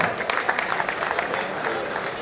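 Audience applause at a mushaira poetry gathering at a school, a steady wash of many hands clapping close by with a murmur of crowd voices underneath, sustained throughout.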